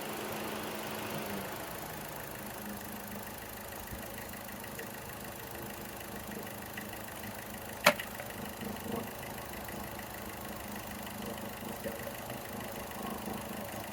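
A Chevy Cruze engine with a bad PCV valve and a P0420 catalytic converter code runs during a short drive, a low, steady, fairly quiet hum with one sharp click partway through.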